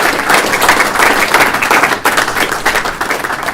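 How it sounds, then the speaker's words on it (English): An audience at a finance and technology industry event applauds, dense steady clapping from many hands that continues throughout at close range. "would you please give them a round of applause as well"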